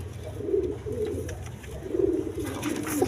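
A pair of high-flying Giribaz pigeons coo in repeated low, throaty phrases, close by and moderately loud, over a light background hum.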